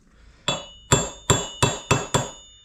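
A hammer strikes a hub bearing on a Honda 350X six times, sharp ringing metallic taps at a fairly even pace, close and loud with brief decays and no talk.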